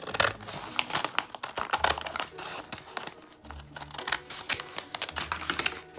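Scissors cut through a plastic shopping bag with crisp crinkling and snipping in irregular bursts, close and fairly quiet.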